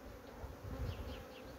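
Honey bees buzz steadily across hive frames after being given a brood varroa treatment, a soft, continuous drone with no voices.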